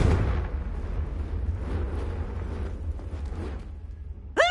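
Confringo spell from Hogwarts Legacy detonating as a deep rumbling blast that rolls on for several seconds, followed by a short whooshing swish at the end.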